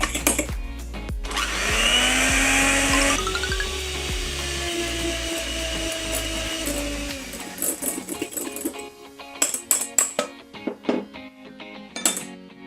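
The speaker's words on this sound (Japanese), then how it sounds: "卵1個にお砂糖ですね、全部加えてミキサーで泡立てていきます。" An electric hand mixer whips one egg with sugar, whirring loudly for several seconds, its motor pitch shifting, then cuts off, followed by scattered clinks and taps against a bowl.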